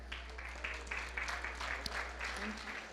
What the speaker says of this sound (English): About a round of applause for New View.